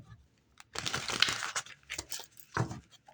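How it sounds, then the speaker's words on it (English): Tarot cards are shuffled by hand in short papery bursts: a rapid riffling crackle, a pause, then a few softer flicks, close and fairly quiet with no talking. "One more shuffle."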